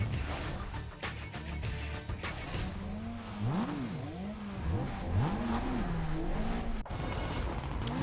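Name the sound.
car engine revving in NFS Most Wanted video game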